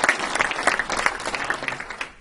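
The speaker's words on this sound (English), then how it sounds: "Could we just give Andy a round of applause for doing" An audience at a North American Power presentation applauds, a dense patter of clapping that swells and slowly tapers off toward the end.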